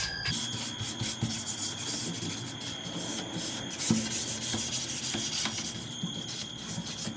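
Continuous close rubbing and scraping of sandpaper on a wooden front door, steady and moderately quiet, with a faint high whine in the background.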